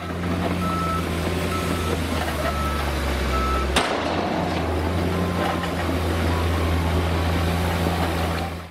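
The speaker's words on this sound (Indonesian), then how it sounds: "Di sini ada mobil truk pasir." A sand truck's reversing alarm beeps in a steady repeating pattern over a loud, continuous engine rumble. There is a brief sharp break partway through, and no one speaks.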